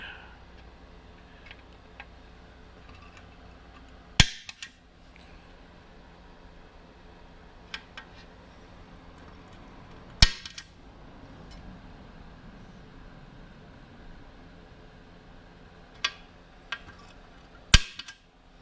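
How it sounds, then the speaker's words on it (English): Several sharp metallic strikes of a hammer on a center punch ring out, spaced seconds apart, over a low background hum with faint ticks between them. "Got our punch."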